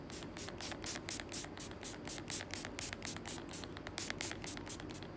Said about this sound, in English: you spray from a distance